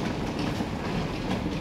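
Suburban train at Dombivli station, a dense rumbling rattle of wheels and carriages, loud and steady throughout the short stretch with no talk.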